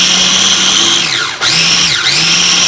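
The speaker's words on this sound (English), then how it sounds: "Those pine nuts are chopping up in there" A food processor chops pine nuts for pesto in a loud, steady whir, with its motor pitch dipping briefly twice as the blades bog down, and no voices.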